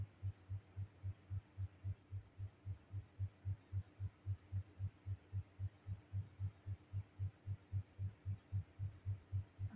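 A sewing machine stitches along the neckline of a patchwork blouse, giving a quiet, steady low thumping pulse over a constant hum with no talk.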